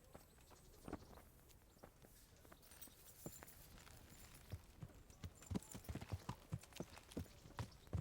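A horse walks across ground in Kingdom Come: Deliverance, its hooves making a faint, steady, irregular clip-clop with light rustling and no talking.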